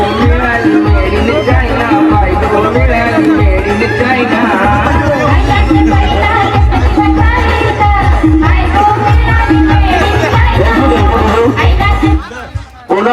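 Crowd at a village cricket league final celebrating a win, loud overlapping chatter and excited shouting close by, continuous throughout with rhythmic low thumps beneath.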